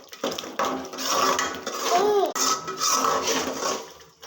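A spoon clatters and scrapes against a cooking pot as masala is stirred, in irregular metallic knocks and rubs at moderate volume, with faint background sounds.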